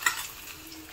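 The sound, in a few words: hilsa fish frying in a pan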